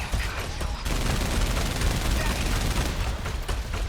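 Heavy cannons fire in a mecha battle game, a dense, continuous roar of rapid gunfire and blasts for several seconds, loud and sustained, with a couple of sharper bursts.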